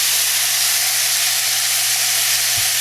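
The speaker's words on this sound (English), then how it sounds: "So we're going to sear them on each side." Cornish hens sear in a hot cast iron pan with a loud, steady, close sizzle and hiss that runs unbroken from start to finish, with no voices.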